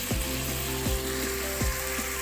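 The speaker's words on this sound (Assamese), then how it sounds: "জলকীয়া দি আছে, কি ফট লাগে" Beans and potatoes fry with chili in hot oil, giving a steady close sizzle broken by a few sharp crackles and pops.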